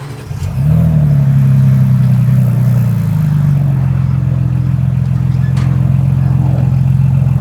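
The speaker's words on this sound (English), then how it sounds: "Here we are inside of the Ford Bronco Raptor, starting it up." Ford Bronco Raptor engine cranking and firing up from inside the cabin, a loud, close rumble with a brief rev flare that settles into a steady deep idle, no talking.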